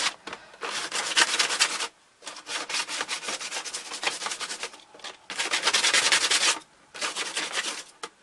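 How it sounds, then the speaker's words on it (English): Sandpaper rubs back and forth over a chainsaw arm prop, coming in several long rasping bursts separated by short pauses, close and fairly loud with no speech. "Sand the bottom. Bottom is not too big deal to sand."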